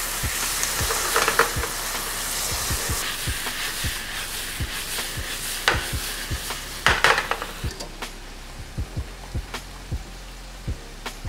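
Ground beef, vegetables and cilantro fry in a pan for empanada filling, a loud steady sizzle broken by repeated scraping stirs and spoon taps against the pan, close up and without talk.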